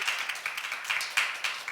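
An audience at a church seminar claps, a modest, fairly even patter of hands with a few sharper claps standing out, heard at a moderate distance with no voices over it.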